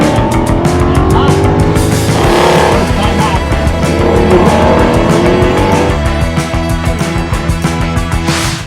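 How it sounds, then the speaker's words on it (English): A Ford Mustang, either a Boss 302 or a GT350, races an autocross course at an SCCA National event, a loud close V8 revving hard through gear changes with bursts of tire squeal. "We're gonna figure out which one of these cars is faster on the autocross track."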